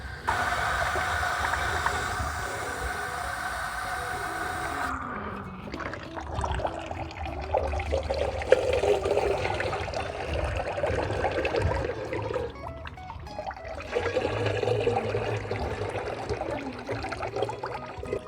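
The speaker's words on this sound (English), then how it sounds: "I'm going to put 2 litres of water in and 50 ml of the sodium." Water poured into a garden sprayer to make an algae-cleaning mix, a long continuous gurgling fill close up, with the flow changing and pausing partway through, and no talking.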